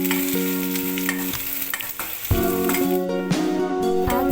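Dry red chilies, garlic cloves and onion fry in a little oil for a tomato-coconut chutney, crackling sizzle under repeated ringing scrapes of a metal spoon against the pan, loud and close, no one speaking.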